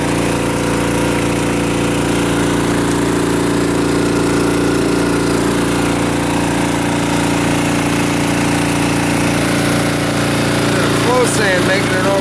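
A semi-trash pump engine runs steadily at a creek-side sand sluicing setup, a loud continuous motorized drone with a faint background voice.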